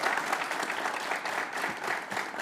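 Studio audience clapping steadily throughout on an Iraqi game show, a dense continuous applause with no pauses.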